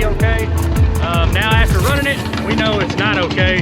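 A G-body car's engine runs in gear with a rough, pulsing low rattle from a faulty torque converter, while people talk loudly over it.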